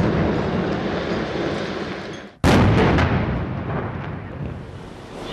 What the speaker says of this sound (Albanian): Shembja e kësaj ndërtese me tritolë është e dyta në kryeqytet dhe e katërta në të gjithë vendin.